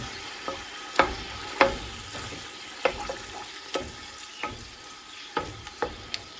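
Tomato paste frying in a pan on low heat, with a soft, steady sizzle broken by repeated scraping and tapping of a utensil as it is stirred, close and clear.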